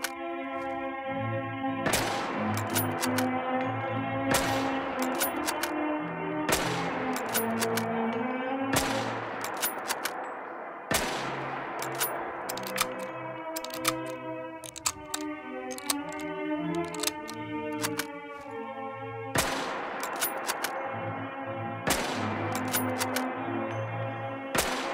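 Shots from a Mosin Nagant bolt-action rifle in the PC game Fallout 4, each loud sharp crack followed by a metallic bolt cycle, repeated about seven times at a slow steady pace with no talk.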